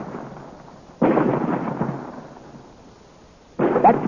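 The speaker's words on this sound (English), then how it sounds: "Look, the rock is splitting." Radio drama sound effect of a rock splitting apart and being destroyed by fire, heard as two broad rumbling, crackling bursts, the first lasting over a second and the second cutting in near the end, with no voices.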